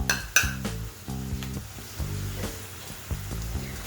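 Ginger garlic paste hits golden fried onions in a hot pan for soybean pulao, sizzling loudly with clinking and scraping of a spoon stirring against the pan, steady throughout with no talk.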